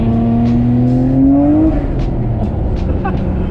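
A Nissan Skyline R34 GTR revs up hard in first gear, the engine note climbing steadily to a peak near the middle before settling, loud and close from inside the car, with voices talking over it.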